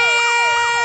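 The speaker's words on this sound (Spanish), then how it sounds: "al sonido de las sirenas para avisar a la gente que es hora de evacuar" Sirens wail during a volcanic eruption evacuation drill near Cotopaxi, a loud close rising-and-falling electronic tone with layered harmonics sweeping in quick cycles.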